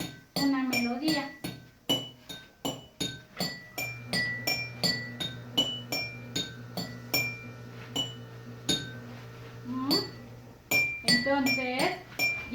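Drinking glasses tapped one after another to play a melody, each strike a bright ringing clink with a short decay, in a steady rhythm of notes at varied pitches, close and clear.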